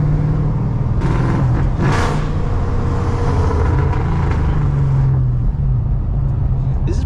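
A Ford Mustang GT driven late at night in the city revs and downshifts with a loud, steady engine roar and a quick rise in pitch, heard from inside the car with no talk.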